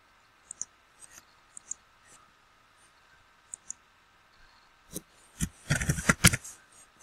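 Sharp single and double computer mouse clicks spaced irregularly over quiet room tone, followed by a denser cluster of louder clicking and rustling near the end.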